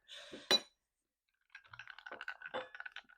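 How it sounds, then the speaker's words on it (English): A glass clinks once, then after a pause a metal stirring tool that is too big for the glass rattles and clinks against it in quick, uneven taps as a mocktail is stirred. The sounds are close and clear, with no voices. "I'm going to stir this fella up here with a tool that's too big."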